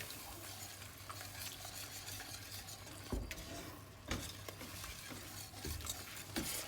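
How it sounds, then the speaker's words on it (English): Milk being whisked into a thickening sauce in a pan for lasagne gives a continuous wet stirring swish, with occasional sharper clicks of the whisk against the pan, close and steady. "you're going to start slowly adding your milk and just keep on whisking it until we get a nice thick consistency here"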